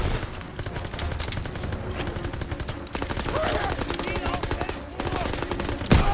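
Machine gun fire in the World War II shooter Call of Duty: WW2, rapid close bursts of automatic shots running throughout, with players talking over the gunfire.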